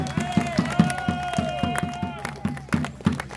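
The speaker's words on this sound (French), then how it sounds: "Nos guerriers, applaudissez-les." An outdoor audience at a medieval festival claps for costumed warriors, a rhythmic round of hand claps with sustained sung or droning music above it and some crowd noise.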